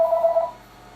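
A phone's incoming call signal, a short electronic tone sounding for about half a second, clear and close before fading into a quiet room.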